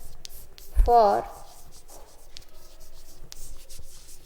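A pen scratches out a physics expression on paper in short, faint strokes and scribbles, close by, while someone talks over the writing.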